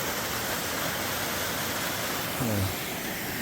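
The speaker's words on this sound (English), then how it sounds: "Oh, we've got us another little waterfall. Water coming down the mountain," A little waterfall spilling down a mountainside along the Appalachian Trail in New Hampshire or Maine makes a constant, even roar of falling water, close and unbroken, with a brief low tonal sound near the end.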